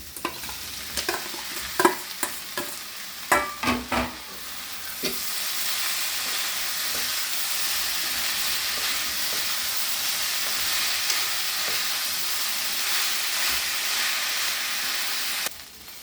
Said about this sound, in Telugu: వేగిపోయిన తాలింపు అంతా తెల్లపిండి వేసేస్తున్నాను